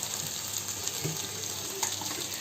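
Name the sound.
water poured into frying chicken kassa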